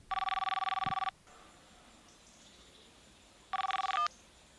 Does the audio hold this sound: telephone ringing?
yes